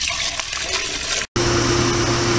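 A pool pump starts up after a brief break in an earlier watery rush, then runs with a steady, loud motor hum and flowing water, with no talk.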